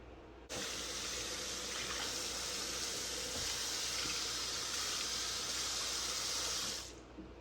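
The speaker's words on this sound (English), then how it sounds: "We're just gonna give it a real quick rinse bath like so, front and back." Tap water runs steadily for about six seconds, rinsing both sides of a brined, pre-seasoned salmon fillet under a kitchen faucet, a continuous close splashing hiss that starts abruptly and stops near the end.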